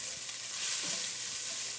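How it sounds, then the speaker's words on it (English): Fresh ginger and garlic fry in a pan for a Moroccan Chilean sea bass tagine, a faint, steady hiss of sizzling oil with light stirring scrapes and no voices. "now we give that a stir"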